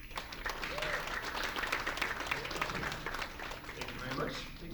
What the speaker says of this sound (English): So a big round of applause, please, for Tim Hernquist.